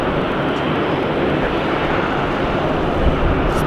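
An airliner taxis at Sydney Airport on a windy day, a loud steady engine roar mixed with broadband wind rumble, continuous and fairly near.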